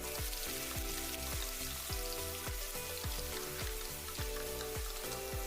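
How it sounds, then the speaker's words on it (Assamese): Garlic and ginger paste fries in hot mustard oil in a wok, a steady close crackling sizzle throughout with repeated soft low knocks of a utensil against the pan, no voices. "তেল গৰম হোৱাত নহৰু আদাৰ পেষ্টটো দি দিছোঁ।"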